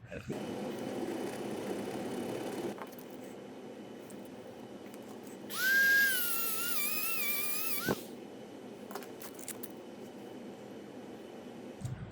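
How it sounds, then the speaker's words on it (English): A Dremel rotary tool grinds a fret tang nipper in a guitar workshop. It gives a brief high whine lasting about two seconds over a steady, quiet background hiss. "still got a little bit more Dremel work to do."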